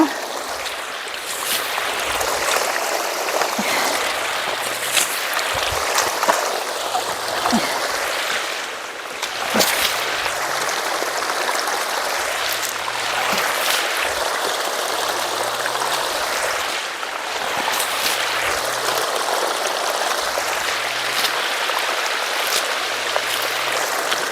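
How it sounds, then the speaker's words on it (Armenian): Water sprinkled onto soil, splashing and trickling steadily, with repeated soft pours and patters close by, running without pause for the whole stretch. "ես վերևներն է ջուր ցանեմ սենց"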